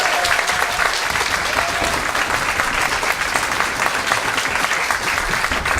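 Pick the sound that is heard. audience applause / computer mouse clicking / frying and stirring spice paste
audience applause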